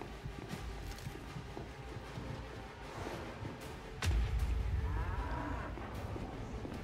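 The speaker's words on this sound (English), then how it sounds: "That was some aggressive cow noises." Cows moo loudly and aggressively in the horror video game The Outlast Trials, with heavy low bellows over a rumbling background and no talking.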